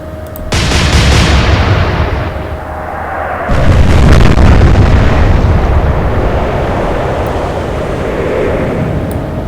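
Heavy naval guns fire in the Atlantic Fleet video game, followed by deep booming shell explosions that roll out into long rumbling decays, loud and close with no talking.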